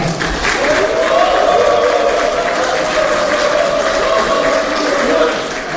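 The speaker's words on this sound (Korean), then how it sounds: "뜨거운 박수로 모시겠습니다" Warm applause from a party policy meeting audience greeting the People Power Party leader at the Gyeonggi Provincial Council, a dense, steady wash of clapping that holds evenly, with a tonal hum beneath it.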